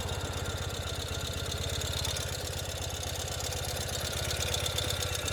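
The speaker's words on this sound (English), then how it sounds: "And here we have an awesome running Ural." A 2021 Ural Gear Up motorcycle engine idles in neutral with the parking brake set, a steady, close, even rumble with a fast regular pulse that holds unchanged throughout, with no voices.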